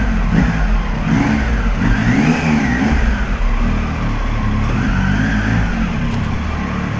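A small motorcycle engine revs hard close by, rising and falling in pitch through several throttle pulls over a rough, loud running drone.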